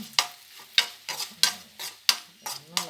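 Bitter gourd slices frying in oil with chili powder, stirred in a pan with a steady rhythm of about one scrape every half second over a light sizzle.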